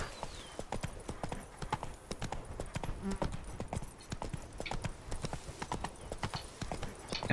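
Roach the horse galloping in The Witcher 3, a rapid, continuous clip-clop of hooves in a steady rhythm, with a voice talking over it.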